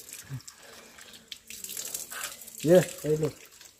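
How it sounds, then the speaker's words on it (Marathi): Spring water from the hills runs steadily from a temple spout in a continuous splashing trickle while people talk nearby. "तर ह्या मुखातून पाणी येते बाहेर इकडे"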